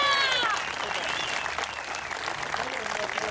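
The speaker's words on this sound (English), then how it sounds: "I want to shout out and clap for those veterans serving their country" Crowd at a 2011 Tea Party rally claps for veterans, steady mid-distance applause and cheering that carries for several seconds, with a few whistles at the start.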